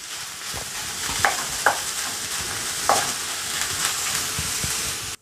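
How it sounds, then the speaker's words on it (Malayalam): Chopped onions sautéing in a pan until brown, giving a steady, dense sizzle with occasional scrapes and taps of a spoon against the pan, and no voices. "ഇനി ഉള്ളി ഒരു ബ്രൗൺ കളറാകുന്ന വരെ നമ്മളിതൊന്ന് വഴറ്റി കൊടുക്കണം."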